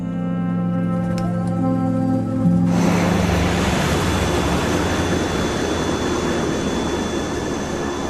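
Inside a Wings Air airliner cockpit on approach with flaps at 15, tonal hums give way to a loud, sustained broadband rush of airflow as the landing gear is lowered, continuing steadily to the end with no talk.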